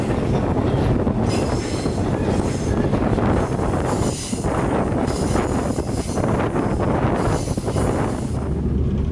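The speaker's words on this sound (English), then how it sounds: "And here is the train passing the bridge." An Ekspres Rakyat passenger train on the Malayan railway crosses a bridge: a loud, steady rumble of wheels and carriages with wind noise and occasional squealing, heard from inside the moving train.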